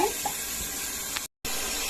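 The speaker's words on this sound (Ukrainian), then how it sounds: "залили просто холодною водою з крана, поставили на плиту" Cold water runs from a kitchen tap into a pot of washed eggs, a steady close hiss of flowing water with a brief cutout partway through.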